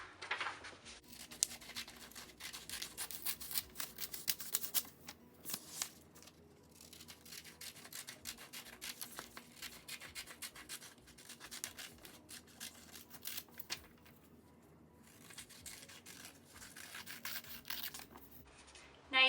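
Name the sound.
cutting out a paper pattern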